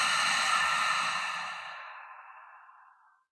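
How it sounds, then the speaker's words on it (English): A deep, slow exhale through an open mouth during a guided self-compassion meditation, airy and breathy, close and alone, fading gradually into silence. "Take a big, deep breath in. And open mouth, exhale."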